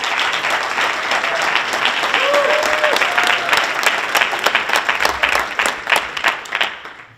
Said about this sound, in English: Let's give Rob a round of applause